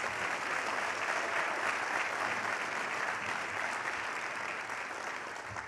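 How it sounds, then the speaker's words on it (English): A round of applause at a recognition event honoring Black community figures in Columbus, a continuous wash of many hands clapping, somewhat distant and even in level, with no talk over it. "Let's give her a round of applause"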